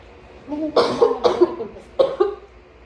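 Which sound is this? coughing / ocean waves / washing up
coughing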